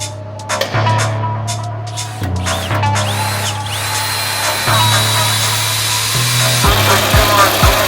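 A power drill whirs in bursts, its motor pitch rising and falling as it bites into a truck's metal frame, with clanks and rattles between runs.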